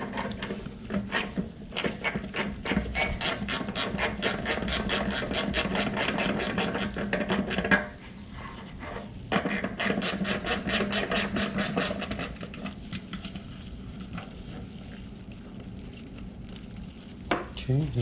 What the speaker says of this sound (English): you want to get your 12 millimeter, and you want to loosen this bolt up